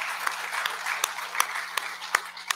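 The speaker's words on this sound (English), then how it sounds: "we better give that a round of applause" A church congregation at a Sunday worship service claps for a member who has finished cancer treatment. The applause is scattered and moderate, with several distinct, sharp claps standing out close by over a softer spread of hands.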